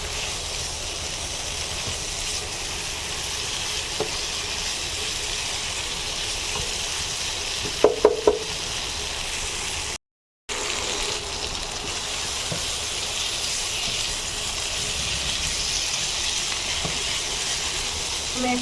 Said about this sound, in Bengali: আমি মশলার মধ্যে মাংস এবং লাউ একসঙ্গে দিয়ে দিয়েছি। এখন আমি কিছুক্ষণ এটা কষিয়ে নেব